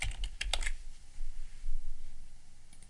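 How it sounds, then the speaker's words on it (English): Quick keystrokes on a computer keyboard patter in a short burst of close, crisp clicks near the start, then fade to faint room noise with a few soft taps. "in the search filter I'm typing data source"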